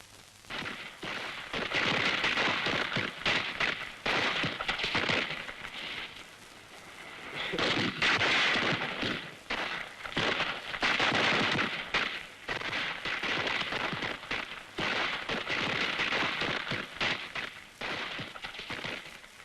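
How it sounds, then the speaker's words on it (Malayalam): Dense, loud volleys of festival fireworks cracking and booming at a temple festival ground, bursts clustering and rolling almost continuously with brief lulls, no voices. "നീ വെടിക്കെട്ട് കാണുന്നില്ലേ?"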